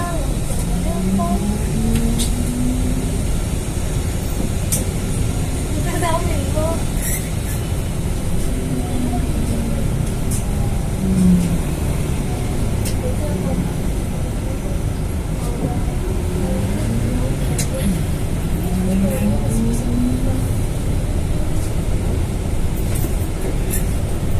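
TransJakarta Zhongtong electric bus driving through the Semanggi interchange in Jakarta, a loud, steady motor whine and road rumble with rising and falling tonal sweeps, heard from inside, with voices talking over it.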